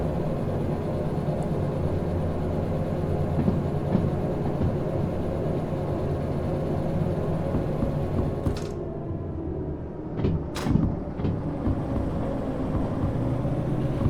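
A long train rolls steadily along the track in the video game Derail Valley, hauled by diesel locomotives, with a continuous loud rumble and wheel noise throughout and a few brief squeals near the end.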